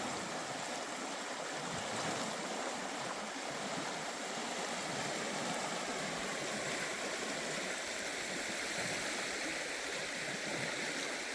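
A Yukon backcountry stream flows steadily with a broad, continuous rushing and gurgling wash, close and even throughout, with no voices.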